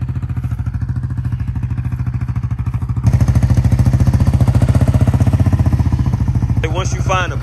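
A Raptor 700 ATV engine runs loud and close with a rough, pulsing thump, rising in intensity as it is revved while wheeling, then a brief higher squeal near the end.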